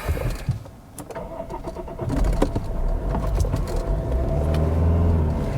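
A Lexus IS engine cranks and catches after stalling, then settles into a steady low running rumble, close by with no talking.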